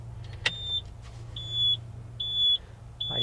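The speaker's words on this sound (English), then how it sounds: "I hear beeping. We're beeping." Electrical beeping sounds inside a 1983 GMC General truck, a series of four steady short tones repeating at even intervals, close and clear over a low hum, after an initial sharp click.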